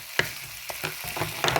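Ingredients for tomato rice softening in a hot pan, a brief quiet sizzle with a few spatula scrapes and taps, close by.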